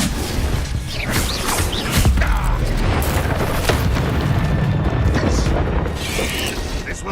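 Incendio fire spell cast in the Hogwarts Legacy video game, heard as a sustained rumbling burst of flame with booming impacts and crackles during combat, loud and close, with a voice speaking in places.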